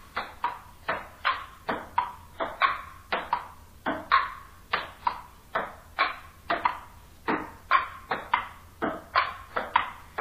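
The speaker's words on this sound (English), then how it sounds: "Yes, table tennis, or as we often call it, ping pong." A ping pong ball bounces rapidly and steadily, crisp clicking hits repeating in a regular rhythm, close and clear with no talking.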